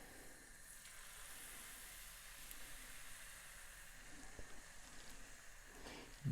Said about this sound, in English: So now we're just gonna add some to fry.